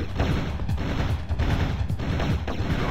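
Regular bullets fire in the 2015 PC release of Turok: Dinosaur Hunter: a steady run of repeated gunshots at roughly even intervals, close and loud over a busy game background, with no speech.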